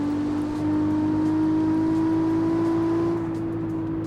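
Toyota Supra in the CarX Street racing game, its engine holding a steady sustained drone with a slight rising pitch, then easing off near the end, with turbo whine over the engine tone.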